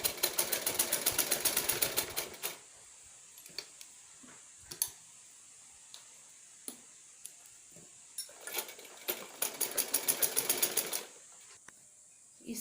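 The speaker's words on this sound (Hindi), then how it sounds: "इस तरीके से इलास्टिक को लगाते हुए सिलाई लगा दें।" Home sewing machine stitching elastic onto a homemade cloth face mask, running in two sustained whirring bursts at the start and near the end, with soft clicks and handling taps between them.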